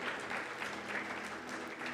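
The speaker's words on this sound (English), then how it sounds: "Give them a round of applause." An audience at a banking summit claps in a sustained burst of dense, even applause, moderately loud and continuing throughout with no voices on top.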